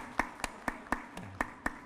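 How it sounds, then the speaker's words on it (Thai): A single person claps slowly and evenly, seven distinct sharp claps at a steady rhythm, close and fairly quiet, in honour of lower-secondary students at a school project event. "ให้กำลังใจลูกๆ โดยการปรบมืออีกครั้งหนึ่งครับ"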